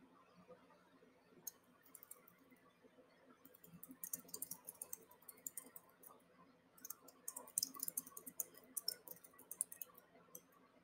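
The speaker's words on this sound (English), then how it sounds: "and start typing." Typing on a computer keyboard while entering text into table cells, heard as quiet, irregular clicking bursts of keystrokes, sparse at first and denser toward the end.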